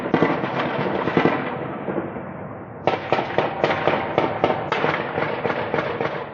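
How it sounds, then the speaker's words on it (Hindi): Rapid bursts of machine gun fire crackle in dense volleys over a city at night, then break into sharp separate cracks after a brief lull, loud and close. "मशीन गन की आवाजों से इस शहर की रात थर्रा रही है।"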